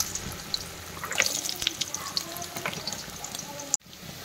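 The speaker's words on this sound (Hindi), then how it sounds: "हाई फ्लेम पे चलाते हुए 2 मिनट के लिए हम आलूओं को इसी तरीके से तल लेंगे" Thin long-sliced potatoes fry in oil in a pan on high flame, giving a steady close sizzle with small crackles that cuts off abruptly near the end.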